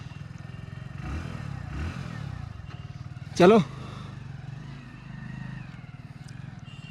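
A new Hero Splendor Plus motorcycle idles nearby with a steady, rapid thumping beat, then pulls away with mild revving. Someone speaks briefly partway through.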